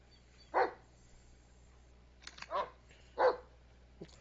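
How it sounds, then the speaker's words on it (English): A dog in the Blair Witch game gives four short barks, one alone and then three spaced apart, clear against a quiet low hum. "What are you barking at, huh?"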